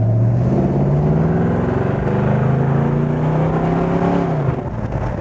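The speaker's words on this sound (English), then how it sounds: "Listen to that exhaust." A 1970 Ford Torino GT with a 351 Cleveland V8 rumbles with a deep, steady exhaust note close by, rising and falling slightly as it revs, continuous and loud throughout.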